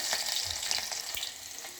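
Garlic sizzles in hot oil in a kadhai alongside crackling mustard and cumin seeds, a steady near frying hiss with small pops and no talk.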